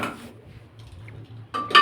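Dinner plates and dishes being set out for a meal at home, with a brief clatter of crockery at the start, a quiet stretch with low room hum, then louder clinking of plates and cutlery near the end.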